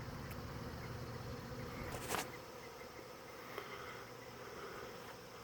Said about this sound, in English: A lot of bees in the air